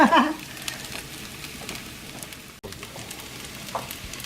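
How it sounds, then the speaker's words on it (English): Shrimp fried rice sizzles steadily in a hot pan as it is flipped, a soft, constant crackling hiss with a few louder pops and scrapes, while a voice talks briefly at the start. "Now see, I kind of like come to the side and flip my rice."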